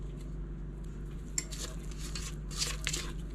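Plum cake dough and batter being mixed in a bowl: soft scraping and clinking of a utensil against the dish, with a few quiet knocks over a steady low hum and no talking.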